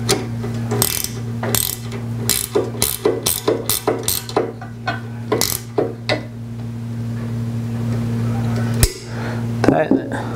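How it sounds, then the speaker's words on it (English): Gear wrench ratcheting in quick bursts of sharp clicks while tightening a headlight part on a 1991 Acura NSX, close and crisp over a steady background hum. "Take a gear wrench in."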